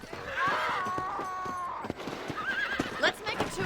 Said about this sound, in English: I picked out a fine horse.